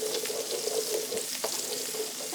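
Butternut squash risotto stirred quickly in a pan, a soft, steady sizzle with light scraping and bubbling texture, close and continuous, no voices.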